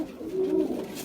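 A racing pigeon gives one soft, close coo inside a loft on a champion racing pigeon farm, a brief low murmuring call.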